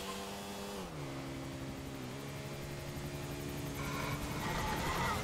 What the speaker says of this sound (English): I can see the helicopters already